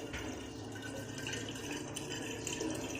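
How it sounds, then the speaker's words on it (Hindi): Cold, chilled water pours into a bottle as a steady, close splashing stream with no talking. "और अभी भी ठंडा पानी भरी हूँ, तो एकदम ठंडा चिल्ड पानी है"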